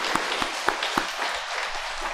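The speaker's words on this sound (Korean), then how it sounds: "우리 박수로 축하하겠습니다." A church congregation at Sunday worship claps briefly, a few sharp close hand claps standing out over a soft patter of applause that fades quickly.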